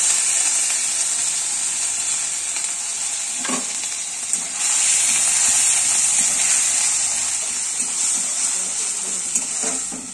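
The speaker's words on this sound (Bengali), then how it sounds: "এই যে চালটা একটু ভেজে নেব" Rice fries in ghee in a pan for payesh with a steady, loud, close sizzle. A few soft stirring scrapes and knocks cut through it, and no one speaks.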